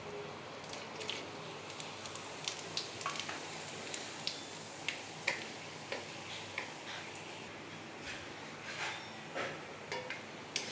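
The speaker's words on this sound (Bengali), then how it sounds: "এবার আমি এই তেলের মধ্যে সব রকমের গোটা গরম মশলা, জিরে, শুকনো লঙ্কা, তারপরে গোলমরিচ, এগুলো সব আমি এখন ফোড়ন দেব" Whole garam masala, cumin, dried red chillies and peppercorns crackle in hot oil for a Bengali chicken curry, a quiet steady sizzle dotted with frequent sharp little pops and ticks throughout, no talking.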